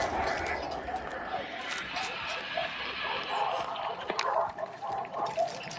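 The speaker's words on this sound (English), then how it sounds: "I hear fucking dogs." Dogs barking at a distance behind the dominant sound of someone talking over game audio, with a few faint, brief barks scattered through the clip.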